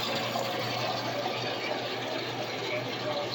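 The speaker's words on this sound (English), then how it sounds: "Adding my sparge water, gonna get it start heating up so that it's ready to go." Sparge water for a home brewing batch pours steadily into a vessel, a continuous, even rush of liquid with no breaks from start to finish.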